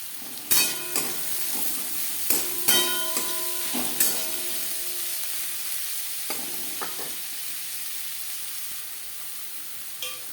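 Chopped onions, four medium ones, sizzle loudly in hot oil in a pan for a chela fish curry, with a steady hiss and repeated clattering stirs and spatula scrapes.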